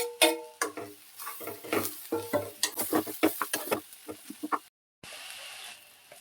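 Mashed raw banana stirred into softened onions frying in a pan, with a run of quick scraping stirs and soft sizzling, a brief silence, then a steady low sizzle.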